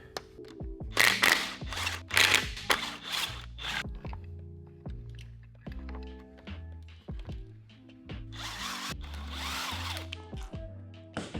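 A power tool removes 12 mm bolts from a Subaru engine's timing-cover bracket in bursts of close whirring, punctuated by clicks, taps and metallic clunks as parts are handled, with no speech.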